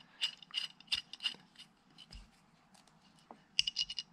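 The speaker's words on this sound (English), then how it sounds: "Don't want them up too tight, we're just nipping these up just to hold their cover on" Short bursts of close ratchet clicking as new bolts are snugged down on a Warn freewheeling hub cover on an FJ40 4x4, several quick runs separated by brief quiet gaps and a few knocks.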